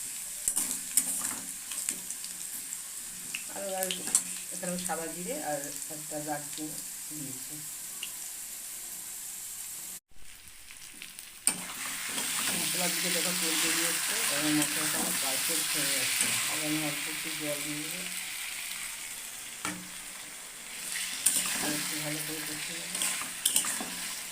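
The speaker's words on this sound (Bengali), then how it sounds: "এখানে আলুটা ভাজা হচ্ছে" Potatoes fry in a pan while fish curry is being made, a steady broadband sizzle throughout, louder after a brief cut near the middle, with occasional faint voice-like tones underneath.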